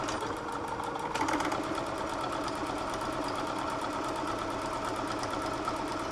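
A sewing machine runs a steady straight stitch through a fabric face mask cover at the strap ends, a continuous close mechanical whir with a fast regular needle rhythm and a brief louder burst near the start.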